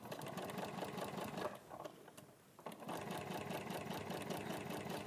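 A sewing machine stitches through fabric with a rapid, steady mechanical chatter and hum. It pauses briefly midway, then resumes at a constant pace, close and fairly quiet, with no talk.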